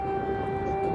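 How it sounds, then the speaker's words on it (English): An air raid siren holding a steady, sustained wail over Kyiv during Russian strikes on the Ukrainian capital, loud and unbroken for about a second. "Sirens wailed over the skyline in Kyiv as Russian strikes on the Ukrainian capital continued."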